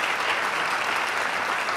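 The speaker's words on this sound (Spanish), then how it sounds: "Le recibimos como se merece, con un fortísimo y caluroso aplauso." A formal awards ceremony audience breaks into warm, sustained applause for a university rector, a smooth, dense wash of many hands clapping at an even, strong level throughout.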